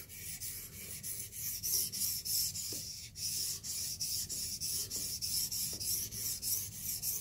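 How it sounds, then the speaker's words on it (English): A knife edge is drawn again and again over a fast-cutting Blitz 360 sharpening stone, producing a continuous close rubbing rasp in regular strokes with occasional small clicks. "I can feel the stone gliding and getting smoother on that edge"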